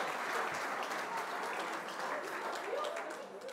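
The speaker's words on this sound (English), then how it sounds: "You've done your big round of applause, please." Dense, sustained applause from an audience at the 2023 Sharelle McMahon Medal netball awards ceremony, a steady wash of many hands clapping that holds for the whole stretch and eases slightly at the end.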